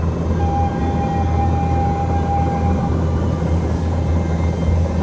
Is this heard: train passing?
yes